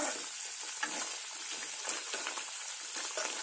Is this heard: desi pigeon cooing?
no